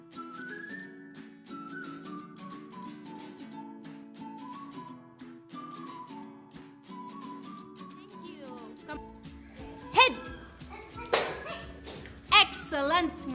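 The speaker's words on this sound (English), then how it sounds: "Clap for her!" A Grade 2 science class of young students gives a classmate a short burst of scattered claps. The few sharp, uneven hand claps come near the end, after a long stretch of high tonal whistling sounds.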